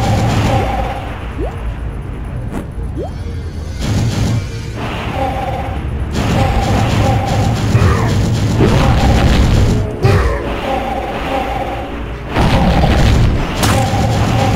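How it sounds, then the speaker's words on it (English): Heavy bomb blasts in a roadkill-cremating video game, loud booming bursts that overlap almost continuously, with brief drops near the middle and a final run of explosions. "Bombs are super effective, it looks like."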